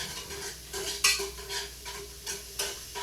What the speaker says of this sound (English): I'm gonna give it a quick stir.